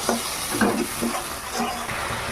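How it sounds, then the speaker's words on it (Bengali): Spice masala with a pinch of salt frying in a pan as the base for a mustard fish curry, a continuous close sizzle broken by a few short stirring scrapes, no talking. "সামান্য একটু লবণ মশলাটাকে আগে ভালো করে কষিয়ে নেব"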